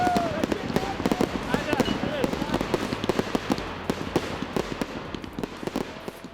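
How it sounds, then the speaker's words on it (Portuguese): Fireworks display for German Unity Day, with dense rapid crackling bursts and pops continuing throughout, loud and close, with voices faintly underneath. "com este show de fogos, o Camarote 21 de hoje chega ao fim"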